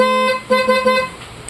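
A loud, high-pitched PIAA horn on a Yamaha NMAX 2024 motorcycle blasts steadily, then sounds in three quick short toots before cutting off.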